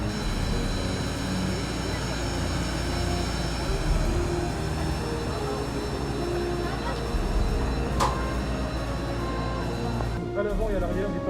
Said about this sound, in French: Quand on s'approche de l'avion et qu'on entend les moteurs allumés